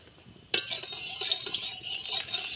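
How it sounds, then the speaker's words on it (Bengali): Cooking oil poured into a hot kadai for tarka dal, starting with a sudden loud hiss that settles into a steady sizzle. "কড়াইটা গরম হয়ে গেছে। এবার তেল দিয়ে দেবো।"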